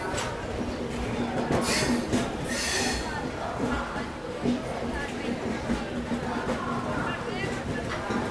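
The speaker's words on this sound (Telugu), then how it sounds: "ప్లాట్ఫామ్ 2 మీద మన ట్రైన్ రెడీగా ఉంది డిపార్చర్ అయ్యేందుకు" Simhadri Express at Guntur Junction railway station, with a continuous rumble of train and platform noise, brief squealing tones and busy background bustle, while a person talks over it throughout.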